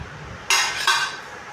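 Stainless steel spice box handled in a kitchen, with two bright metallic clanks in quick succession followed by a fading ring, close and alone.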